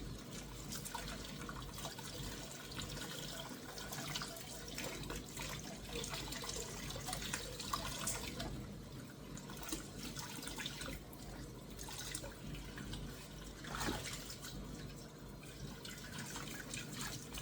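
Tap water runs steadily as a soapy item is rinsed out at a sink, a quiet, continuous trickle and splash with a few louder surges and no talk.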